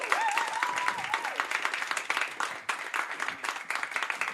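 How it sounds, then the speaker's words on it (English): Crowd applause at a student union election results event honoring the disabilities officer, sustained, moderately loud clapping from many hands with a faint whistle near the start. "A final round of applause for your disabilities officer for 2015 and 16."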